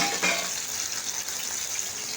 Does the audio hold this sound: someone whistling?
no